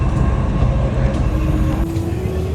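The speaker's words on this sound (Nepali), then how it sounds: "यस्तो मेट्रो हिँडिरहेको" A metro train runs steadily and loudly close by, its continuous rumble overlaid with a rising wheel squeal toward the end, with no voices.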